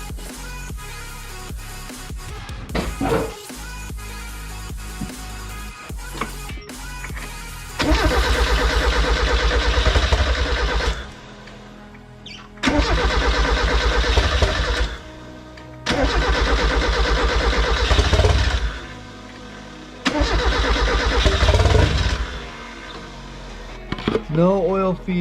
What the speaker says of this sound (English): We're gonna crank the car and see if any oil comes out.